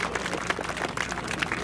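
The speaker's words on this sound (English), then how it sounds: "A big round of applause for Danik, please." Audience applause and cheering at an outdoor medieval combat tournament event, a steady dense clapping from a crowd with scattered louder claps, continuous throughout.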